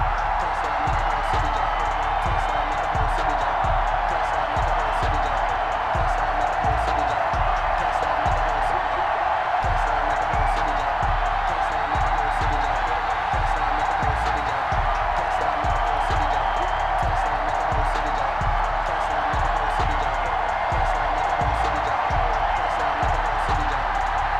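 Sellout stadium crowd in the video game Madden NFL 21 for Seahawks vs. Falcons, a dense, steady roar of cheering that never lets up, with a commentator talking over it.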